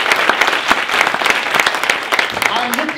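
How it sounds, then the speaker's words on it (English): An audience at a workplace inclusion launch event claps steadily, with a dense patter of hands filling the room and voices mixed underneath. "Please give them all a round of applause."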